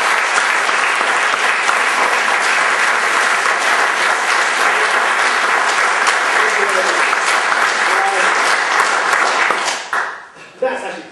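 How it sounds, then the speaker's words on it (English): Loud, sustained applause from a theatre audience at a stage mentalism show, a dense wash of clapping hands that holds steady for about ten seconds before thinning out and stopping abruptly. "Round of applause"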